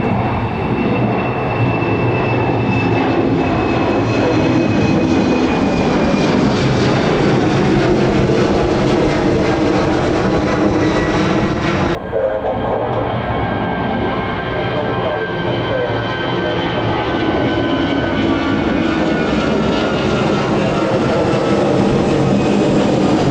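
At Birmingham Airport, an airliner engine runs up to idle power, a loud, steady roar with a broad whine that holds for over twenty seconds, dipping briefly midway.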